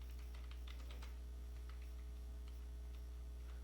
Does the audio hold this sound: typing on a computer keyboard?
yes